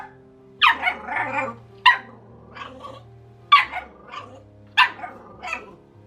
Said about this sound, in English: This night she had a little bit of a barking problem.